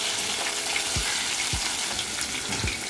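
Fried chicken with green chili paste stirred in a hot pan, a loud steady sizzle up close, punctuated by four soft thuds of the spoon roughly every half second.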